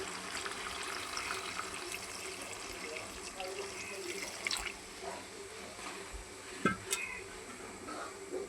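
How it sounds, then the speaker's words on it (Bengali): Hot water poured into a pan of well-fried spices sends up a steady, fairly quiet wash of splashing and bubbling, with a few brief clinks near the end. "এই যে মশলা আমার ভালো করে কষানো হয়ে গেছে। এখন আমি যে গরম পানি দিতেছি।"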